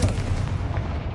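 Explosive boom of the Confringo fire spell in Hogwarts Legacy, a dense rumbling blast that fills the whole short moment with heavy low-end crackle and no voices.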